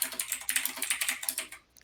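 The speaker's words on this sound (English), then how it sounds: "Can't hear over the keyboard." Rapid, light clicking of keys on a computer keyboard, a quick irregular burst of typing that trails off at the end.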